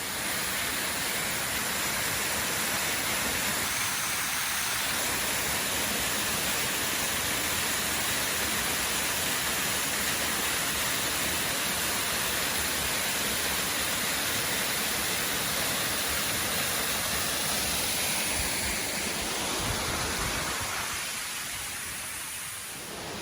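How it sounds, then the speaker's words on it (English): Steady broadband rush of a small waterfall in Lamington rainforest along the Albert River, continuous and fairly close, with a constant hiss and no talking throughout. "But what a pretty little waterfall this is."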